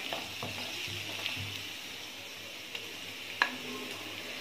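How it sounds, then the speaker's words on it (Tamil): Ginger garlic paste sizzles with golden fried onions for channa masala, stirred steadily, with a low continuous frying hiss and a few sharp scraping clicks of the spoon against the pan. "வெங்காயம் நல்லா பொன்னிறமாக வதங்கினதுக்கப்புறம் இஞ்சி பூண்டு விழுது ஆட் பண்ணிக்கிறோம்."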